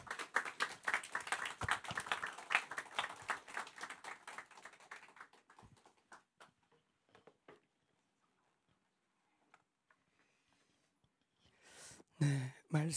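A church congregation at a founding service claps to welcome the pastor: brisk, fairly close applause for several seconds that thins to scattered claps and near silence, before a burst of louder noise at the end.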